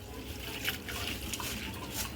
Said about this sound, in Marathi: म्हणजे पाणी ना खाली पडेलच